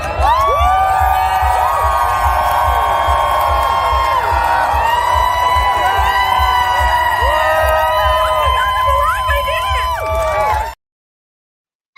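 A large audience at a live sword swallowing show cheers, whoops and shouts loudly and without a break for about eleven seconds, and then the noise cuts to silence.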